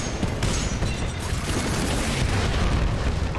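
Salvo core rocket barrage from a Titan in Titanfall 2, a rolling chain of loud booming explosions that overlap into a continuous rumble, with no talking.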